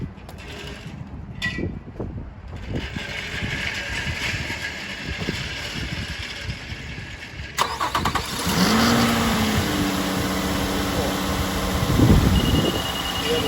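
A Nissan Murano fresh from a spark plug and ignition coil change cranks and fires up, then settles into a steady idle with a whirring fan, preceded by some mechanical clatter under the hood.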